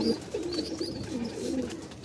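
Pigeons coo in low, soft repeated phrases close by, with faint chirps above and no talking.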